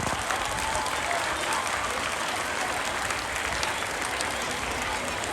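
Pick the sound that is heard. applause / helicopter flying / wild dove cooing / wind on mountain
applause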